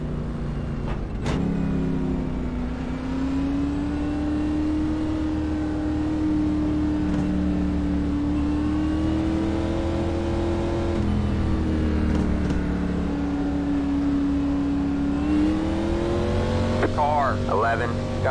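ARCA race cars circle the track at South Boston under caution, a steady engine drone rising and falling in pitch as cars pass, with a loudspeaker voice talking over it.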